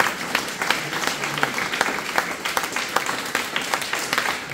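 Applause from a crowd, a dense patter of many hands clapping continuously at moderate volume, with faint voices mixed in.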